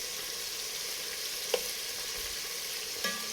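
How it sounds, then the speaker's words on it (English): Beef chunks sear in a hot pan with a steady, even sizzle, close and moderately quiet, with a couple of faint clinks from turning the meat. "by searing and cooking off the meat like this"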